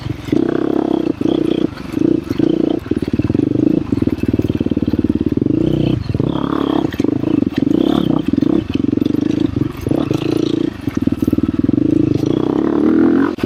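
KTM 350 XCF Factory Edition dirt bike ridden on rutted, rooty singletrack, its engine droning loud and steady up close, with throttle surges and clattering hits from the terrain throughout.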